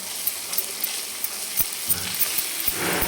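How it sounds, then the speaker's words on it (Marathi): A spoon presses and smashes softened tomatoes in sizzling oil for a cashew curry. Steady frying hiss is broken by irregular scraping taps, growing louder near the end. "चमच्याच्या साह्याने हे असे आपण थोडेसे स्मॅश करून घ्यायचे"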